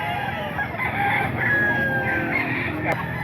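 Rooster crowing amid clucking chickens, a drawn-out crow rising over a busy backdrop of hens nearby, fairly close and continuous, with a faint murmur of people in the background.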